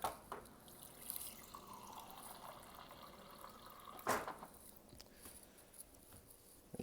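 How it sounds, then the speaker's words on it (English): Water runs and splashes into the reservoir of an Outin portable electric espresso maker at close range, with a brief louder gush partway through and quiet trickling before and after. "You pour your water on the top"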